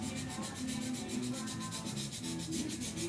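Small homemade sandpaper detail block rubbing over wood to work out pits, a steady rhythmic back-and-forth scratch of short strokes, close and quiet with no talking.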